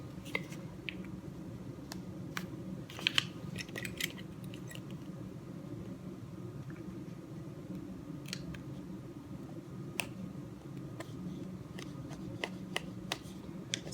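Scissors snip and paper is pulled from a diamond painting canvas of a William Morris Tree of Life tapestry, scattered small sharp clicks and crinkles over a low steady background hum.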